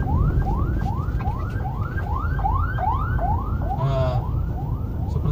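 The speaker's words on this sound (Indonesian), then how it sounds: "Nah, sepertinya ada ambulan lewat ya." Ambulance siren wailing in repeated rising sweeps on a coastal road between Samboja and Balikpapan, loud and close over constant traffic rumble.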